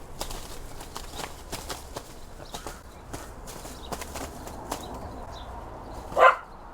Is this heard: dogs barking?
yes